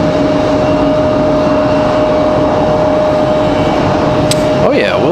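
A Southwest Boeing 737 MAX 8 airliner departs Raleigh-Durham, with a steady loud jet roar and a constant engine whine throughout and a brief burst of higher-pitched noise near the end.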